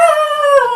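A pet dog howls at the sight of another dog outside, one sustained, wavering, high-pitched howl that slides slowly downward, close and loud throughout.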